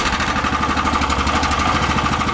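The engine of a homemade 4x4 mini tractor runs after starting, a loud, steady, rough chugging with a rapid knocking pulse that holds evenly throughout, with no talk.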